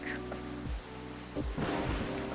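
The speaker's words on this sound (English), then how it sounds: "a lightning struck in the background" Steady rain hisses through a rainy-season scene in a video game, with a low rumble of thunder rolling in and a lightning strike bursting brighter and louder near the end, over a constant background hum.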